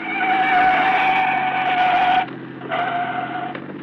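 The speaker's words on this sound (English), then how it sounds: "It's a police car." Old-time radio drama effect of a police car engine with a high squealing skid, loud and continuous, cutting off abruptly, then a quieter burst of squeal and engine that fades out.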